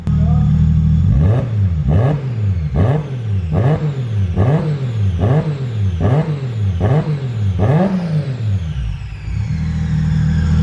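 A loud, close single-turbo RB26 car engine revs rhythmically about ten times in a row, each blip rising and dropping with a turbo whoosh, before settling back to idle.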